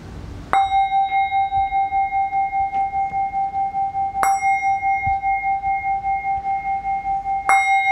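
A meditation bell struck three times at a steady, unhurried pace, each strike a clear, resonant ring that lingers and slowly fades before the next, heard alone with no voices.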